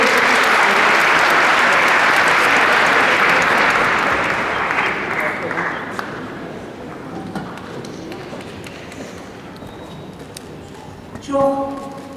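Loud audience applause at an International Women's Day concert in a hall; dense clapping fills the opening seconds, then gradually thins and fades under a voice, with a brief burst of clapping near the end.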